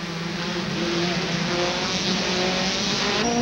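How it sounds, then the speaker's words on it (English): Touring cars racing at the 1992 Macau Guia Race, engines roaring loudly and steadily at high speed on the street circuit, a continuous close mechanical drone with no talk. "Remarkable speeds for these touring cars."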